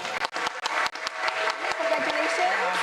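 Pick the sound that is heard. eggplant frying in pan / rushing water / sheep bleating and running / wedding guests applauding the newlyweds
wedding guests applauding the newlyweds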